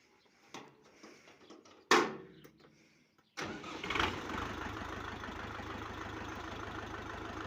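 A FORTE RD 404 tractor with a mounted sprayer in a winter wheat field: after a few faint knocks, the engine cranks and catches, then settles into a steady, close running drone while the spray mix churns.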